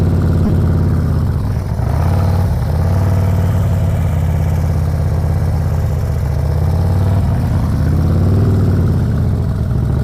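A motorcycle engine on a slow figure-eight riding exercise, a loud, close, steady drone that rises and falls gently in pitch as the throttle opens slightly, with no talk over it.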